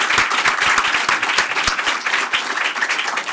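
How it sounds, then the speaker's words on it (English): An audience at a special operations forces event gives a brief round of applause, a close, crisp burst of many individual claps with no talk over it. "maybe we can give them a round of applause to thank them for your time."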